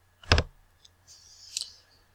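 A computer mouse clicks once sharply while a drawing program is in use, followed by a faint scratchy rustle, close up and with no talking.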